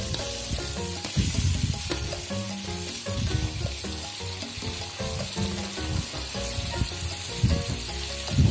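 Spice paste sizzling and frying in a pan while being stirred, for a yellow-broth catfish dish: steady close crackling sizzle with scraping stir strokes, loud and continuous.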